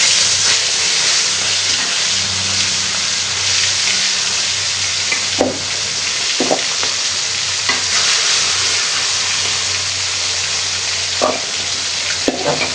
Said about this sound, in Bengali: কিনে মাথাটা বেশি তেলে ভাজতে হবে